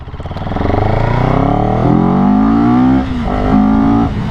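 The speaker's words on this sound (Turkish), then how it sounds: "Hadi gelin hep beraber şu motorla birazcık gazlayalım." A CFMOTO 700 CL-X Sport motorcycle accelerates loudly up close. The engine note climbs steadily, dips briefly at a gear change, then pulls up again.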